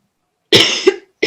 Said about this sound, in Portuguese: eu estou com uma tosse aqui que está difícil